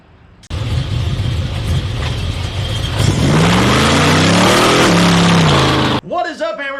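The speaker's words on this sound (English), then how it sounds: "letting the car pass. Yeah, extremely loud this morning." A car drives past close by a forge, its engine noise rising loud and sweeping in pitch before cutting off abruptly, followed by brief faint voices.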